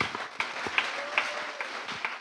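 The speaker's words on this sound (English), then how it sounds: "You can clap your hands." An audience at a church talk show claps, giving an uneven scattering of hand claps with a few sharper, closer ones, moderately loud, with no talk over it.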